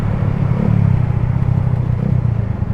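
A Suzuki GSX motorcycle fitted with a WRX Lingga exhaust idles and revs, a loud, deep, steady pulsing rumble heard up close with no talking.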